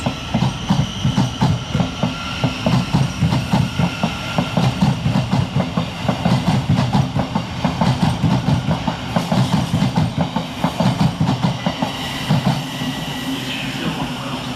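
A Thameslink Class 700 train runs through Farringdon station, loud rhythmic clickety-clack of wheels over rail joints with a rumbling undercarriage, steady for most of the pass before easing near the end.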